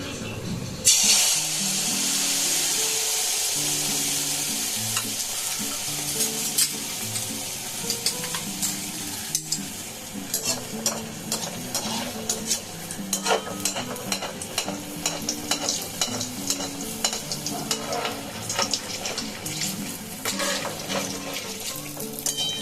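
Milk pua (dudh poa) batter frying in hot oil gives a steady, close sizzling hiss with constant crackle and bubbling that runs the whole length, with a few faint knocks underneath.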